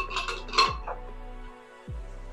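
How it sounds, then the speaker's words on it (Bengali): A lid lifted off a cooking pot of boiled, ground ingredients: a couple of close metallic clinks and a scrape near the start, then quiet under a steady low hum. "এবার আমি ঢাকাটা খুলে নিচ্ছি।"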